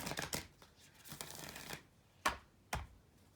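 A deck of self-care cards is shuffled by hand in a few quick riffling bursts separated by short pauses, close and fairly quiet, with no talking.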